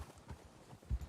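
A few soft clip-clop hoof steps of a white horse in the video game Red Dead Redemption 2 roleplay server WildRP, faint and brief, with a slightly louder pair of hits near the end.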